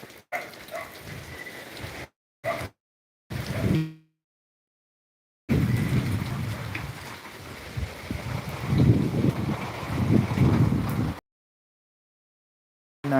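Gusty wind roars and buffets the microphone in uneven bursts, broken by abrupt silences, with a stronger sustained stretch in the middle.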